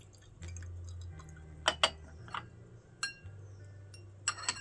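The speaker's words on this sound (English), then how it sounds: "then I invert my lid and do a back pour" Water trickles softly from an inverted tea lid in a back pour. A few light glass clinks and taps stand out over a low background hum. The sound is close and quiet, with no speech.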